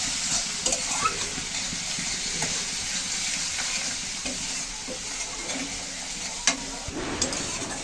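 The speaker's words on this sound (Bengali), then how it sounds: "আস্তে আস্তে কষাতে থাকবো। আর একে একে সব মশলা আমি যোগ করতে থাকবো এখানে।" Onion and garlic sauté in a pan with spices for a potato and egg curry. A spoon stirs steadily, giving a constant close sizzle with scraping strokes and a few sharper knocks against the pan.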